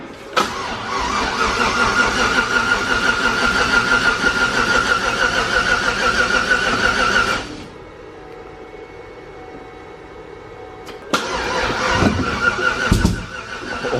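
Built 1000+ horsepower Colorado engine cranking and firing for its first start: a loud, rough, continuous engine roar for about seven seconds, a quieter idle-like stretch, then renewed bursts of loud engine noise.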